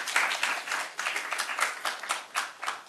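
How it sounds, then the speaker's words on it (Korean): An audience in a lecture hall applauds a professor at the close of a talk, moderately distant clapping that rises and falls in uneven bursts, a few sharp claps standing out. "교수님께 다시 한번 박수 부탁드리겠습니다."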